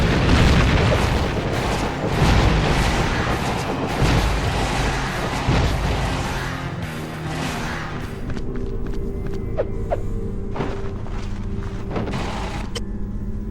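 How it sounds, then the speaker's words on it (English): Brimstone cannon blasts in the PS2 game Spawn Armageddon: heavy, rumbling booms pile up densely over the first half, then give way to sparser, sharper hits against a steady low roar. "the brimstone cannons have a low rate of fire but cause tremendous damage"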